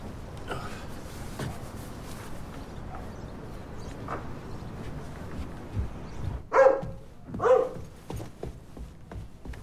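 Dog barking in a film scene, two loud barks close by near the end over a steady background murmur.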